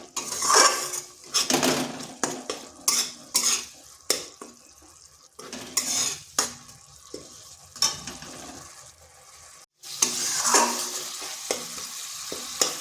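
A spatula scrapes and stirs tomato and spice masala in a pan for aloo dum, loud repeated metallic strokes over a low sizzle with a brief pause near the end, no voices.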